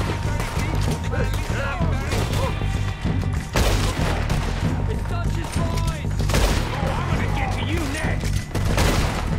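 Video game gunfire comes as dense, continuous volleys of loud shots and booming impacts with almost no gaps, and voices are mixed in with the shooting.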